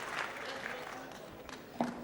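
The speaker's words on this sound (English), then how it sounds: "And there's the applause that shows the appreciation for these two fellows putting up a wonderful contest." A wrestling crowd applauds after a bout, a steady patter of clapping under someone talking over it.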